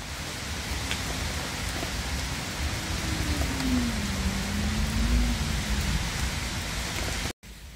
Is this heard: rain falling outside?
yes